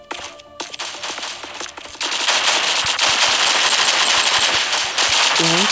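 Rapid automatic gunfire in the video game Pixel Strike 3D, loud and continuous bursts of shots that intensify partway through and keep rattling to the end.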